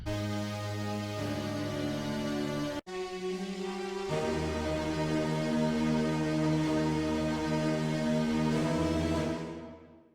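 A black metal keyboard track plays alone as a dense, sustained synth chord pad with rich layered tones. Chords shift in stages, there is a brief dropout near the start, and the sound fades out at the end.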